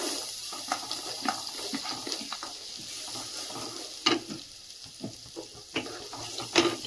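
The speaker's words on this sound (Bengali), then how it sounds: "সবজিটা হালকা করে একটু ভেজে নিই" Carrot, onion and capsicum frying in melted butter and oil in a pan, a steady close sizzle with intermittent stirring clicks and scrapes throughout, no voices.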